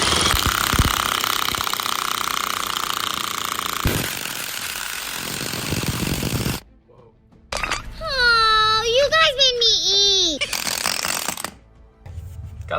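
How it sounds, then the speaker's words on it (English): A power tool hammers loudly and continuously on a BMW E46 while a suspension bushing is pushed out, then cuts off into near silence before a person talks at length close by. "Got the bushing out."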